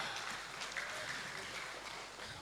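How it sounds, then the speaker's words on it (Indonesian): An audience applauds at an Islamic boarding school arts performance in Majalengka, producing steady, diffuse crowd clapping that stays fairly faint and continuous throughout. "Tepuk tangan untuk kita."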